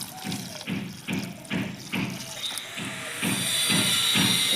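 Water from a tank pours and splashes into a container, arriving in a rhythmic series of gushing surges at first and then settling into a steady, hissing, close-up flow.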